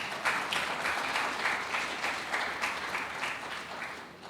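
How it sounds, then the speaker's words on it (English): A room of guests gives sustained applause for a family member being honoured at a tribute to Nana Dr. S.K.B. Asante, steady dense clapping at moderate volume throughout, with no talk over it. "I think that deserves a round of applause."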